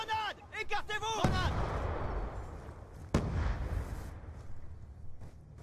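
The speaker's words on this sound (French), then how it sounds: "Grenade. Écartez-vous." A grenade explodes in Call of Duty Black Ops with two heavy booms that roll into a long rumbling decay, close and loud, after a brief burst of voices and game sounds.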